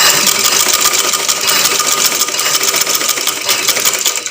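A sewing machine stitches fabric along a cut shape in a home sewing lesson, running fast and continuous with a dense mechanical chatter and close, loud rapid needle strokes, no voices.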